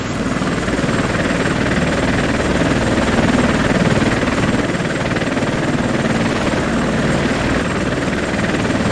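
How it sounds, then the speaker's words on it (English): A helicopter in the wargame WinSPMBT gives a loud, continuous rotor drone that stays close and steady throughout, with no talk over it. "the helicopter up there will be fine"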